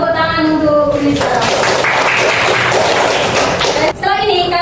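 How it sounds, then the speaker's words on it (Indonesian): Applause from a class for a student named Unisa, a dense burst of clapping that lasts a few seconds and then stops abruptly as tonal sounds resume. "Tepuk tangan untuk Unisa."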